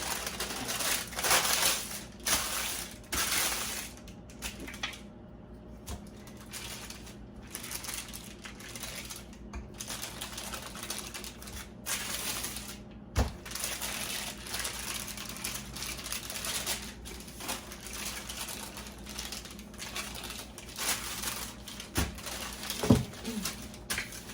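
Cold cherry pie crust dough rolled out between sheets of parchment paper, giving a steady run of soft crinkling, rustling and rubbing sounds, moderately close, with occasional brief pauses and light thumps over about 24 seconds.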